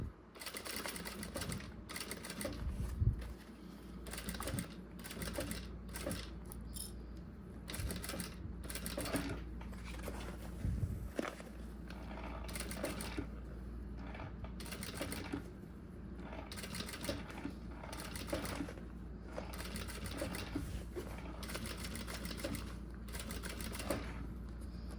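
A home sewing machine stitches a necessaire in rapid bursts of mechanical clatter, speeding up on straight runs and pausing between stretches, fairly quiet and close, with occasional faint background talk.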